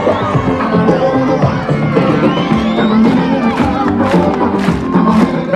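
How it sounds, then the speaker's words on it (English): A crowd at a BBC Radio 1 roadshow cheers and whoops loudly for a quiz winner, a sustained roar of shouting voices with some higher children's cries and a few claps mixed in. "Give a nice round of applause"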